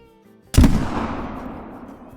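A single loud muzzleloader rifle shot fired at a mule deer while hunting in a video game, a sharp close blast followed by a long rolling echo that fades over about two seconds.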